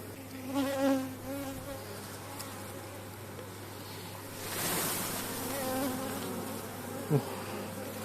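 Many honey bees hum and buzz steadily close by at an open hive, a dense droning swarm with individual insects whining past now and then.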